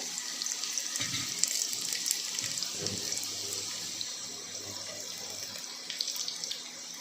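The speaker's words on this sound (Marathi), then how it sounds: "लसूण टाकायचंय लसूण चांगला तळून घ्यायचंय" Garlic fries in oil in a pan as the first step of a kadhi. A steady, close, crackling sizzle runs throughout, with a few soft knocks.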